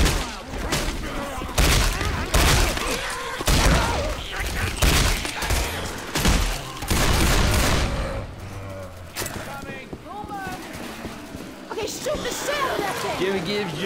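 Loud, rapid bursts of gunfire from Left 4 Dead 2 (modded, The Passing campaign) during a Tank fight, with repeated booming shots through the first eight seconds, then quieter intermittent fire under several voices talking and shouting.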